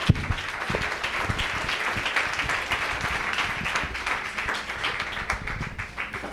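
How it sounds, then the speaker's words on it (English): Steady, loud audience applause closing an evening faith panel on Black Lives Matter, a dense wash of many hands clapping continuously without talk. "Another round of applause,"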